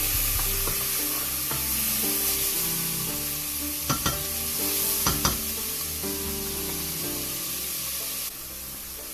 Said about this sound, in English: you want to add your garlic in, and you just want to stir it around and keep cooking